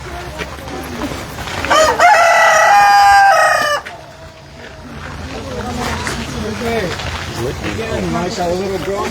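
A rooster crows loudly near the start, with chickens clucking around it at a coop beside a small farmhouse in Fort Myers, Florida, followed by continued clucking and murmuring voices in the background.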